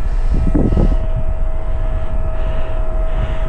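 A homemade RC airplane flown with a joystick-based ground station drones steadily overhead, a constant engine hum with a single tonal whine and a brief gust of wind noise near the start.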